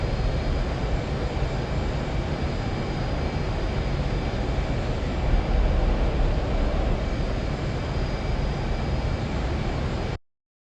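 Simulated F/A-18 jet in the combat flight game DCS, engine roaring as it accelerates toward Mach 1: a loud, steady broadband jet rumble and whine held for about ten seconds before cutting off abruptly.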